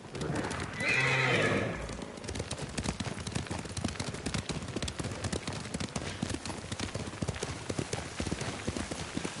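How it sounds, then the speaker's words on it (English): A horse whinnies loudly near the start, then hooves clip-clop steadily at a run for the rest of the moment, in a samurai action video game. "Horse!"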